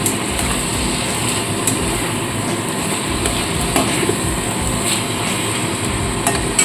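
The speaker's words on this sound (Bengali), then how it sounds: "মশলাটাকে মিশিয়ে নিয়ে আমি এখানে ম্যারিনেট করা চিকেনটাকে এখন দিয়ে দেবো" Marinated chicken going into a spice mix for chicken malai curry, frying with a steady, loud sizzle and hiss throughout, broken by occasional scrapes and knocks of a spoon stirring in the pan.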